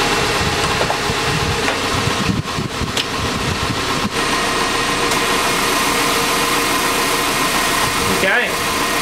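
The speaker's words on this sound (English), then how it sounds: "So we'll turn the AC on now, and hopefully that thing will start spinning and not stop." An AC compressor on a car, running with its relay bypassed, whirs steadily alongside a constant engine and fan drone, close and unbroken for the whole stretch with a faint clatter near the end.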